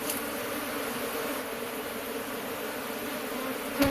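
Honey bees at a Kenyan top bar hive hum in a continuous, even drone close by, ending in a brief sharp knock, with no voices.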